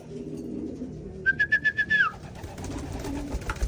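A bird trainer's whistle gives one wavering call over soft pigeon sounds during pigeon recall training, followed by a short run of rhythmic pulses and quieter rustling.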